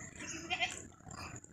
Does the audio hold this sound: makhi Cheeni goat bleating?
yes